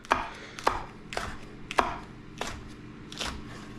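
A sharp knife chops through ingredients for Cuban imperial rice on a board, making six crisp, evenly spaced cuts at a steady moderate rhythm, close and clear with no talking.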